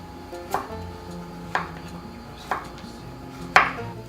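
Four separate, evenly spaced slicing strokes cut zucchini into thin rounds on a cutting board, each a clean, close knock against the board over a soft steady background hum.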